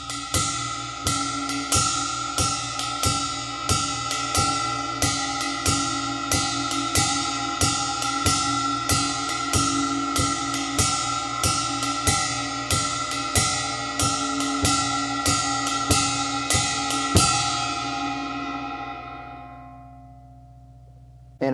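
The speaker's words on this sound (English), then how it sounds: "when you play that feathering drum technique, it sounds really awesome mixing with the bass player and your kick drum" Jazz drum groove with a softly feathered bass drum kick, played as a steady, evenly spaced pulse of crisp cymbal-like hits over a low thump, continuing alone before ringing out.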